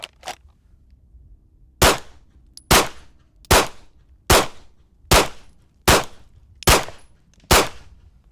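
Eight sharp pistol shots ring out at shooting targets in a steady, evenly spaced string about a second apart, each loud and close with a short ringing decay, no talking between them.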